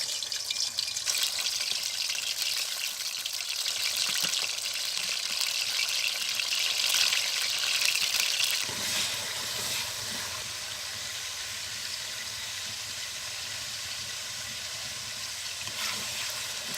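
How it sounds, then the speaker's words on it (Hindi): Half a kilo of meat frying in hot oil for chicken pakora, a steady loud sizzling hiss that carries on throughout with a slight shift midway and no talking. "जब ऑयल गर्म हो जाए आधा किलो गोश्त फ्राई करेंगे।"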